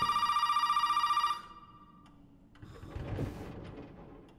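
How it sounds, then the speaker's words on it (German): Old-fashioned telephone bells in the video game Resident Evil 7, a loud rapid metallic ringing that cuts off after about a second and a half, followed by quiet rustling and a soft muffled thud. "Diese gottverdammten Telefone."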